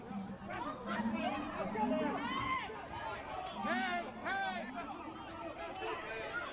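Angry protest crowd in the street demanding justice, many voices shouting and chattering over one another at close range, a dense overlapping babble without pause.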